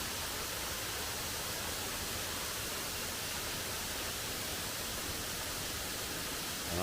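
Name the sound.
Contentment Falls waterfall heard from the top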